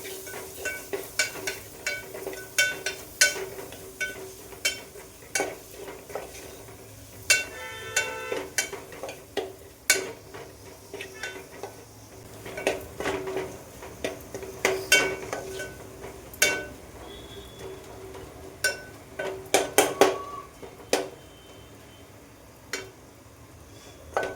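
A garlic, coconut and coriander paste roasts in oil with turmeric for a kadhi pakora, giving a soft, low sizzle broken by intermittent stirring scrapes and clinks of a spoon against the pan, close and unhurried, with no voices.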